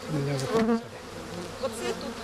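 Dense, steady buzzing of many agitated honeybees, drones among them, swarming close by at the hive, droning on without a break.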